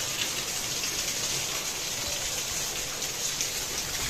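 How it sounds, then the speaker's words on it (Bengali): Steady rain falls, a soft even hiss of drops pattering on surfaces, moderately quiet and without voices. "বৃষ্টি পড়তেছে"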